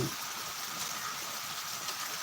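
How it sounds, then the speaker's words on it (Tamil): Heavy rain in Chidambaram, Tamil Nadu, pours down as a dense, steady hiss of falling water that fills the whole moment at constant loudness. "சிதம்பரம் மக்களுக்காக கனமழையை நேரலையாக பதிவு செய்ததை"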